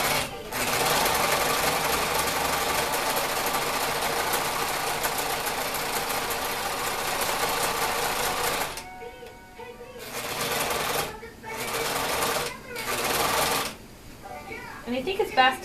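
A sewing machine stitching a cloth baby wipe runs in a loud, continuous close whir for several seconds, stops, then sews in short bursts with pauses while turning a corner.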